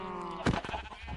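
A single sheep bleat from the Minecraft video game rises briefly over a steady background of game music and ambience.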